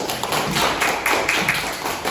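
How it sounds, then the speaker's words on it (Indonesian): A classroom of students bursts into applause during a religious studies lesson, many hands clapping in a quick, uneven flurry that stays fairly loud and close, with no talking. "Hebat, tepuk tangan dulu."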